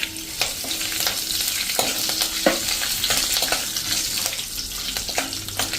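Curry leaves crackle and sizzle as they hit hot oil with roasted spices for Gujarati kadhi, a steady close frying hiss with sharp pops and occasional stirring clinks throughout.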